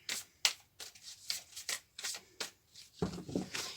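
Oracle cards being shuffled and drawn by hand during a spiritual reading, a series of soft papery riffles and slides in quick bursts, close and fairly quiet, with no voices.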